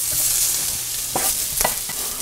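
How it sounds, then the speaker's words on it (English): Minced garlic and onions sauté on a Kamado Joe grill, a continuous hiss of frying broken by two or three brief scraping stirs of a utensil, with no voices. "We're going to saute that in with these onions."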